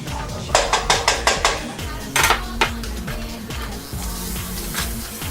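Beef going into a cooking pot for jerk beef, with a rapid series of loud metallic clangs and clinks from utensils against the pot, followed by softer scraping and stirring.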